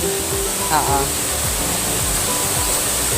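River water rushes in a steady, noisy wash at a Quezon getaway, with a brief faint voice-like sound early on.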